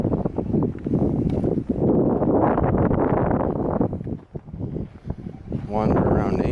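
Wind gusts through a forest at night, a heavy buffeting roar rising and falling against the microphone, with someone talking intermittently under it.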